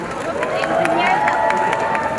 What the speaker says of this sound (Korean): 많은 함성 부탁드립니다.